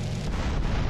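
A quad bike blowing up in GTA San Andreas, a loud sustained explosive rumble with heavy low-end boom that fills the whole moment without a break.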